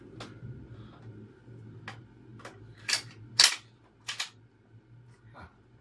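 Foam darts are pushed into the harmonica-style clip of a NERF Mega Thunderhawk blaster, making a series of sharp plastic clicks and snaps, several spaced out over a few seconds, close and alone over low background hum.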